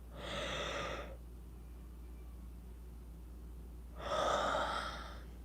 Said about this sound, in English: I'm gonna have to yawn now.